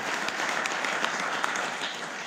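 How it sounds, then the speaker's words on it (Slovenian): An audience at the Slovenian Canoe Federation's 2019 kayaker of the year awards gives steady applause, a continuous wash of many hands clapping at moderate distance for a couple of seconds. "da je še en aplavz za Evo in pa seveda za naše vse, ki so tukaj z nami"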